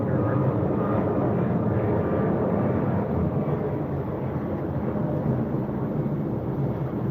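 An airplane flies loudly overhead outdoors, a continuous broad engine roar that fills the whole stretch, steady and close, with no clear talk over it.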